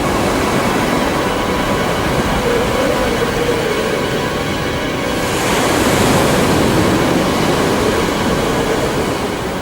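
Heavy, continuous roar of sea waves and surf, loud and close, swelling slightly midway, with wind noise mixed in.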